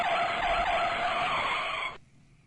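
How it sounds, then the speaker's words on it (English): A car brakes hard, its tires skidding with a loud sustained squeal that holds steady for about two seconds, then cuts off abruptly into quiet. "Hit the brakes."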